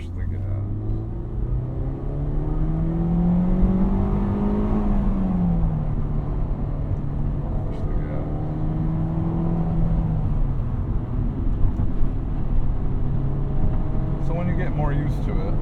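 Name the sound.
manual transmission car engine revving while pressing gas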